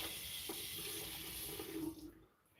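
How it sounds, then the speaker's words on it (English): Water runs steadily from a tap over bleached hair during a final rinse, a continuous close hiss that cuts off near the end, with no talking. "I'm gonna do one last rinse."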